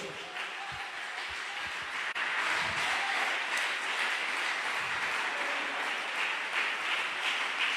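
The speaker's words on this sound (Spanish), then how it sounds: "Pues bríndale un aplauso a Dios." A church congregation in Valledupar, Colombia applauds during a sermon, a steady wash of many hands clapping that holds at an even level with a slight swell partway through.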